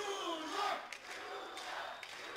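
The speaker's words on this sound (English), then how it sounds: "Massive roar from the crowd." Crowd roaring in a stadium at a beach volleyball Grand Slam semi-final in Sao Paulo after a big block by the Brazilian pair, a broad sustained cheer swelling early, then holding steady with a few sharp bursts.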